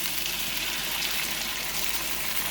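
Two cups of water poured into a pot of Sri Lankan pumpkin curry with garlic, a steady close splashing gush that runs without pause for a couple of seconds.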